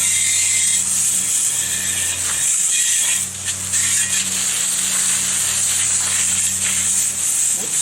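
A garden hose sprays water to rinse dirt off. It makes a loud, continuous hiss with faint mechanical rattling, close to the listener and steady for several seconds.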